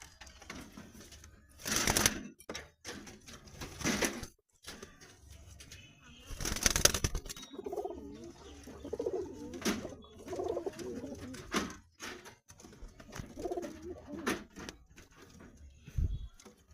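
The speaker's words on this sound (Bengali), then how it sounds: "পায়রাগুলোকে বন্ধুরা ছেড়ে দিচ্ছি" Soft pigeon coos come and go in low murmuring bursts, broken by a few sharp flutters and knocks, with no talking.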